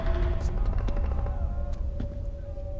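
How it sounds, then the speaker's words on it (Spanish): Machine gun fire in the game Dead Rising 2: Case Zero, rapid bursts of shots over a dense, steady game soundscape with a sustained tone running underneath, held at a fairly constant loudness throughout. "Ametralladoras. Disparos."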